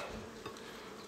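Honeybees buzz around a hive of linden-honey bees, a steady, continuous hum filling the background with no voices, close and even throughout.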